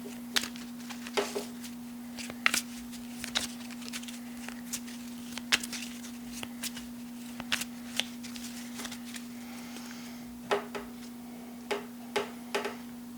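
Deck of cards shuffled at the table for a solo game of Goblivion, a long run of crisp riffling snaps and taps at close range over a constant low electrical hum, without any speech.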